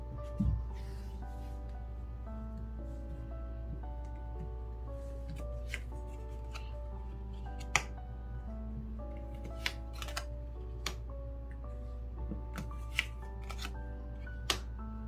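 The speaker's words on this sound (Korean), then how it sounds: "추가적으로 타로 카드를 뽑아볼게요" Tarot cards being shuffled and drawn during a reading, soft papery rustling and riffles with scattered sharp snaps and taps over a steady low hum, close and fairly quiet.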